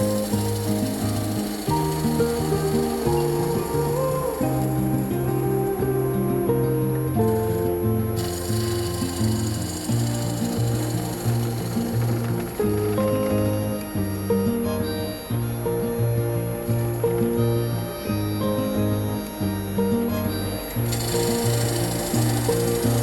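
A smaller bowl gouge makes a push cut on a spinning wood bowl on a lathe, giving a continuous close rubbing, scraping drone over the motor's steady hum, with slight rhythmic variation throughout.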